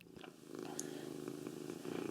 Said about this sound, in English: if you detect a faint purring noise in the audio there, that is Calvin's cat.